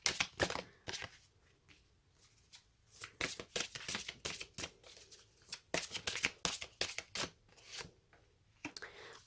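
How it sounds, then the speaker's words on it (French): Oracle cards are shuffled by hand in quick, papery bursts of riffling and slapping, close and fairly quiet, with short pauses between flurries. "je tire 2 cartes sur tous les domaines"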